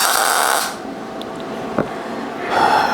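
A MIG welder laying beads on a steel V block, a loud steady crackling buzz that stops, leaves a short quiet gap with a small clink, then starts again close by.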